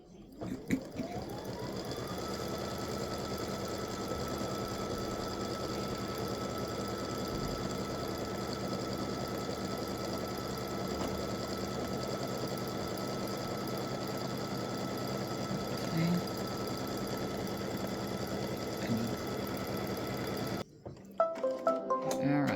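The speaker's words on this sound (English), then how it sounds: "So let me stitch the placement stitch for my fabric." An embroidery machine runs a placement stitch on fabric for an Easter carrot appliqué, a steady close mechanical whirr that holds for about twenty seconds, then stops, followed by some brief handling noise.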